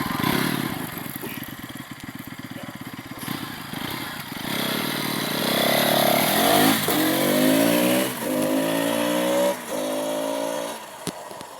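A Bajaj Pulsar NS200 motorcycle engine braking and downshifting, loud and close, its revs rising sharply with each gear change and then falling away in several stepped sweeps.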